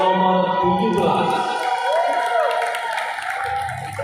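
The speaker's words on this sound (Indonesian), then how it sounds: "tepuk tangan untuk peserta nomor 10 dan nomor 17." Applause from spectators at a gymnastics event, with continuous dense clapping and crowd noise under a loud announcer's voice over a PA system.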